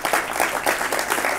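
Audience applause greeting a senator at a parliamentary forum on education reform in Chile, a dense, even patter of clapping that holds steady for the whole stretch with no voices over it.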